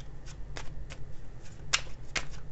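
Oracle and tarot cards being shuffled by hand in a quiet room, several soft riffling bursts spaced through a short stretch, close and fairly faint, with no voices.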